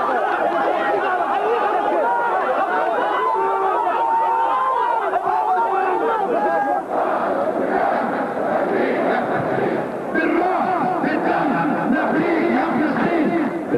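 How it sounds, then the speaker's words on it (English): A large crowd in Jabalia refugee camp, 1994, chants an uprising slogan during the Intifada. Many loud voices shout together in a steady, massed roar that never lets up. "The crowd answered with a slogan of the uprising"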